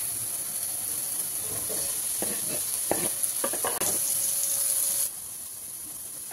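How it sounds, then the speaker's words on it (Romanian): Peppers and onions sizzle steadily in hot oil in a pot, with scraping and stirring clatters partway through before the sizzle quiets. "Și călesc puțin ardeiul și ceapa."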